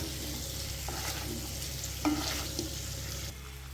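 Paneer and small tomato pieces sautéing in a pan give a soft, steady sizzle with occasional stirring scrapes and a brief louder clatter midway, with no talking.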